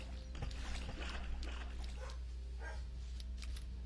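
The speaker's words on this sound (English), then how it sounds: "Oh my god, my dog's barking" A pet dog barking in a room, several short barks and whimpers at moderate distance, irregular and fairly faint over a constant low hum, with no clear speech.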